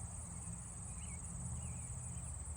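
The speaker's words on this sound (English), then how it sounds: "I'm hearing the Lenny cicada." A faint cicada calls in a suburban neighbourhood, heard as a thin, steady, high insect drone that holds evenly throughout, with low background rumble beneath.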